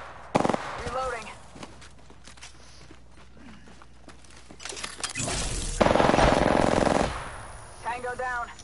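Automatic weapon fire in the Apex Legends battle royale video game, with short rapid bursts alongside footsteps and player voice lines. Speech is mixed in throughout.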